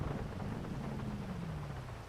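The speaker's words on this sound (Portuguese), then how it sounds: "Chove pra caramba." Heavy rain pours down steadily, a dense broadband wash that stays loud and even throughout, with a low rumble running underneath and no voices.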